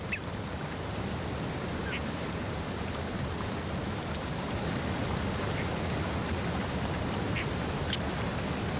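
Ducks quacking faintly now and then over the constant loud rush of a fast-flowing river through a steep valley.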